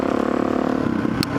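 Kawasaki KLX470 dirt bike engine running steadily at close range, a dense buzzing drone with a brief scrape near the end.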